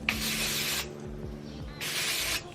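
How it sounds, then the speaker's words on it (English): A hair texture spray gives two sustained aerosol hisses, each about a second long, close and fairly loud, with a quiet pause between them. "So now I'm gonna go in with this texture spray"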